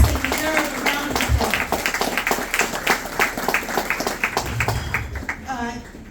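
Audience at a Greek lawyers' association event breaks into sustained, dense applause from many hands, filling the room at a steady level before tapering off near the end.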